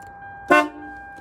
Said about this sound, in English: So now when I go to honk the horn,